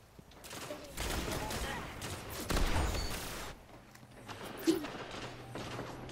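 Gunfire in an Xbox One shooter game: a sustained burst of distant rattling shots, then a quieter stretch with a few scattered reports and faint mechanical noise.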